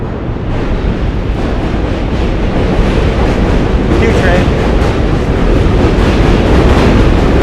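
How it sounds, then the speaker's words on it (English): A New York City Q subway train roars past close by, loud and steady, its rumble and rattling wheels filling the whole stretch without letup. "It really gets noisy. That was the Q train"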